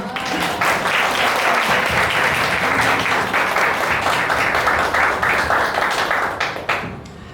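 Audience at a Reform Party Seoul chapter youth-employment forum gives a sustained round of dense applause, steady and full for about seven seconds before tapering off at the end.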